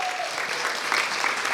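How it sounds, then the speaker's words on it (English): A crowd applauds the panelists at the close of a leadership event, with dense, steady clapping filling the whole moment at an even level and no talk over it. "we will give the panelists another round of applause"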